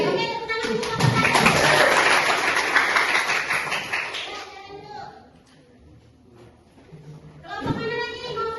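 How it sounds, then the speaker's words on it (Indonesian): A classroom applauding group 1 after their presentation, a few seconds of lively clapping mixed with children's voices, fading to quiet before a brief burst of talking returns. "tepuk tangan untuk kelompok 1"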